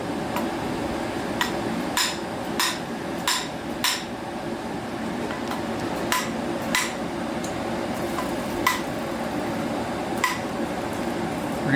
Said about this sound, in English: Pound it in place.